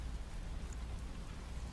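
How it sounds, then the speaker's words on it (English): Steady rain pours down outside a dark, quiet city setting, a dense even hiss with low rumbling underneath, continuous and fairly soft throughout. "And you just hear the sound of the rain."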